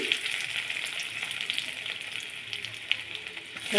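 Chopped garlic sizzles in a little oil in a kadai wok for chilli chicken, a steady close frying hiss with a few small pops and no talking.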